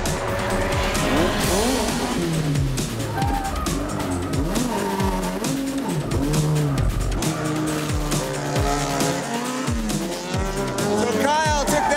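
A race car runs hard through a lap, its engine revving and shifting in rising and falling sweeps while the tires squeal and skid through the corners, loud and close, with some talk over it.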